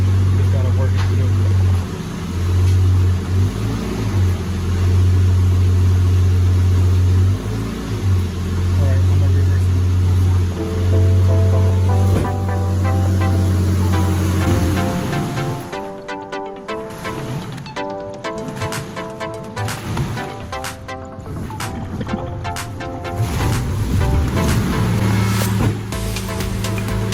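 A 2000 Honda Accord V6 idles while warming up, a steady low engine hum close by that thins out for a stretch in the middle, with someone talking over it throughout.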